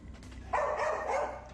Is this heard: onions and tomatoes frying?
no